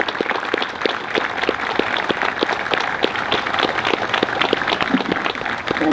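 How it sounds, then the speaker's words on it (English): A parade crowd gives a steady, generous round of applause to honor veterans, many hands clapping at close to moderate range with rhythmic, distinct claps running throughout. "honor our veterans with a generous round of applause"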